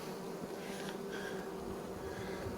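A steady, close drone of honeybees leaving the hive on cleansing flights in cold weather, a continuous swarm buzz with no speech.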